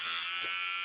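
Electric hair clippers with the guard removed buzz close up as they shave a head down to zero, a steady, unbroken drone that carries on alone for the whole moment.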